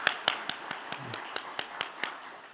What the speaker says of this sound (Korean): 우리 찬양대 위에 격려의 박수 다시 한번 하겠습니다.